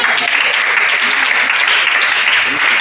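A church congregation claps together in a dense, steady burst of applause that sounds close and loud, with a few voices mixed into the clapping.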